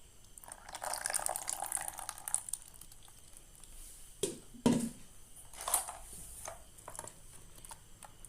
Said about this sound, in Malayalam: അടിച്ചെടുത്തത് നമുക്ക് ഒരു പാത്രത്തിലേക്ക് ഒഴിച്ചു കൊടുക്കാം.